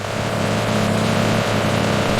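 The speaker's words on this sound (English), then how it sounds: "A tractor harvests bright red peppers from green stems" A tractor harvesting red chili peppers in a field, its engine giving a steady, continuous loud drone with a low throbbing hum throughout, no voices.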